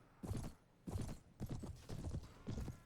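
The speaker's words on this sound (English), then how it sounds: "Frigoberto sure knows how to gallop." A horse gallops in the video game Mount & Blade, five quick rhythmic hoof clip-clops close by and moderately loud, with no talking.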